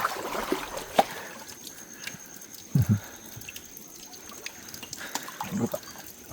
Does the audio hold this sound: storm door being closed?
no